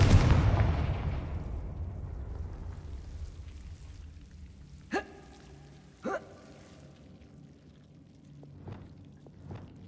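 A fire-spell explosion from the Hogwarts Legacy video game bursts loudly at the start and fades into a long rumbling tail, followed later by two sharp ringing impacts and a few faint clicks.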